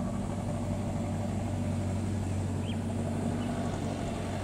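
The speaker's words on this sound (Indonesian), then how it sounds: "Ada mobil lagi saya nanjak ya." A vehicle engine labouring steadily up a steep mountain road, a constant low droning hum with a faint steady whine, close and continuous with no talk.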